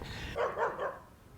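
A dog gives three quick barks in a row, fairly close, with no talking.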